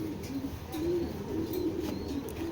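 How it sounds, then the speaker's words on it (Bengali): A foreign male racing pigeon from 2017, silver-eyed and of red checker stock, coos in repeated low throaty phrases close by, with nothing else over it. "সিলভার আইসেন্সের একটা কবুতর একদম"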